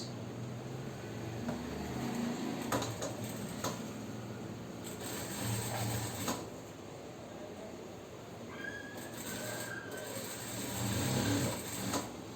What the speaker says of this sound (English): In organza it is little difficult to stitch because machine doesn't move fast.